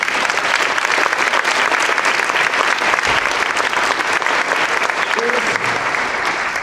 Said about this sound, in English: Just let's give Bruce another round of applause.